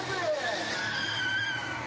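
Stunt cars performing at a street show, tires skidding and squealing in drawn-out rising whines over a low engine rumble, heard from a distance with a voice talking over it.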